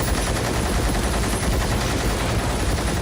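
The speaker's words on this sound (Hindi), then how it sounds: "जादुई बंदूक चलाता है वो धड़ धड़ धड़ धड़ गाड़ियों से गोलियां चलाया जा रहा है" Rapid, continuous gunfire from cars in a shootout scene of the film Animal: a dense, loud, unbroken barrage of shots, like automatic weapons firing without pause, with no talking over it.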